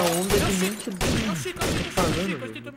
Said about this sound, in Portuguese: O Bruno tá atirando em mim, ó.